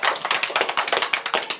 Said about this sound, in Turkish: Tekrar bir alkış alalım Selin için